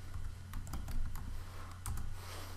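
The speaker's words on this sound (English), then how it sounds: "open your bot, write a slash start" Rapid typing on a computer keyboard, close and fairly loud, with bursts of key taps in an irregular rhythm and brief pauses, heard alone.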